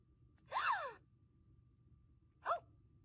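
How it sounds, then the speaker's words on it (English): A toy doll gives two short electronic gasping sounds, a longer sweeping gasp followed by a brief second one, faint and isolated against near silence. "Like a gasping sound."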